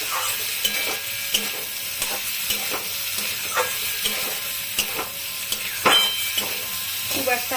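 Small prawns and potatoes frying in a pan with a little water, a steady hissing sizzle broken by repeated scraping stirs of a spatula at an even rhythm, close and clear.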